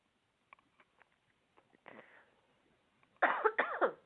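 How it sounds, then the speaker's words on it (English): A single harsh cough from someone with a cold bursts out loud and close after a few soft clicks and breaths, followed by a second rougher cough right behind it. "Gosh, this cough."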